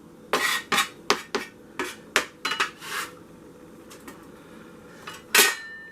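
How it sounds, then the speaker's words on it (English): A bench scraper clacks against a metal pot as chopped soup vegetables are pushed in, a rapid series of sharp scraping knocks and taps, close and crisp, ending with one louder clank. "My bench scraper, in we go."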